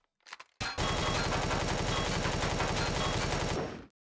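A sustained burst of rapid automatic gunfire in Empyrion Galactic Survival, shooting out the core of an abandoned drone base, loud and continuous for about three seconds after a few brief scattered sounds.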